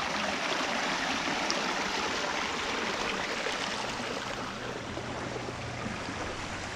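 A simple creek flows nearby in a steady, dense rush of water that stays even and fairly loud throughout, with no voices.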